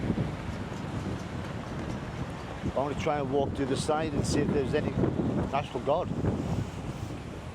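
Strong typhoon wind by the seashore in Manila, a constant roar buffeting the microphone, with someone talking over it for most of the stretch.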